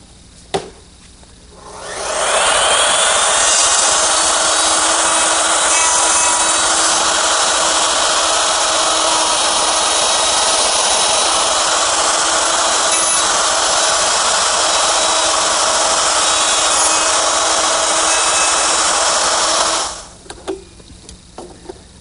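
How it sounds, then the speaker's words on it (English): A router fitted with a collar and dovetailing bit cuts dovetails into wood, a steady loud whine that starts abruptly, holds unbroken for about eighteen seconds, then winds down, with no talk. "it works with my router, which is set up with a collar and a dovetailing bit"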